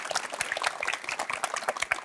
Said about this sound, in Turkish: Hemen ona da alkış alalım.